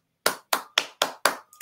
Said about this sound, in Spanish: Un aplauso a ti, mi estimado amigo.